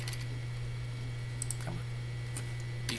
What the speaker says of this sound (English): So I'm going to type in equals.